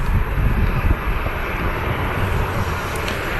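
A Jet2 airliner arriving at Manchester Airport roars loudly and steadily, a broad jet engine rush filling the air close by for a few seconds.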